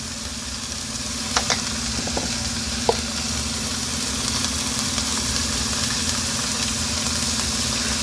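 Seasoned chicken breasts sizzle steadily in a frying pan, a constant close crackling hiss with a low hum beneath and a few brief clinks near the start.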